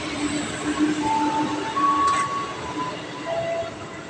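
A KRL commuter train waits at Cilebut station at night, giving off a low rumble with brief tonal squeals and a short hiss, as if from doors or brakes, close by amid faint platform noise.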